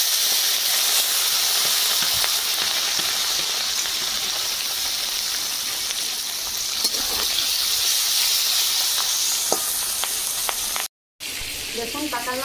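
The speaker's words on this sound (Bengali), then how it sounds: "তেল গরম হয়ে গেছে, মাছ দিয়ে দেবো।" Pakal fish fries in hot mustard oil, a loud, steady, close sizzle and crackle of spitting oil holding for several seconds with a brief drop-out near the end.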